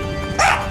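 A single short Shiba Inu bark or yip, close and fairly loud over a steady background hum.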